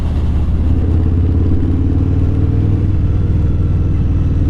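Loud, close rumble of a new custom motorcycle engine, a deep pulsing throb holding steady with slight rises in intensity, no voices over it.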